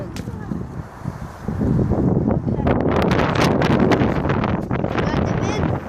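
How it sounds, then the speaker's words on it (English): Wind buffeting a microphone outdoors during a nature walk in muddy ground, loud gusty rumbling that surges and stays strong through most of the clip, with faint voices underneath. "Got the wind. See the wind?"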